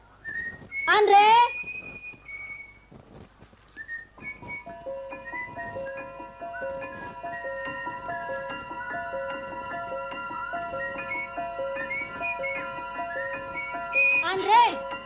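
A man whistles a tune indoors in a domestic film scene, a clear melodic run of notes lasting most of the clip, with brief voices calling out near the start and end.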